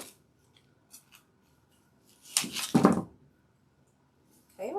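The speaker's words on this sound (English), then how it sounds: "cut these leaves off" Scissors snip leaves off stems for a patriotic floral centerpiece, a few crisp cuts clustered together in an otherwise quiet room, with faint rustles before and after.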